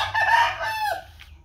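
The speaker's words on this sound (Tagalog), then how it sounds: "May mga manok." A rooster crows once, a single drawn-out cock-a-doodle-doo that trails off, with faint low background rumble.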